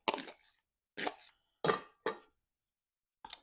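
Drained, rinsed canned black olives and whole kernel corn tipped into a mixing bowl, giving five short, soft plopping thuds with pauses between them, close and alone with no talk.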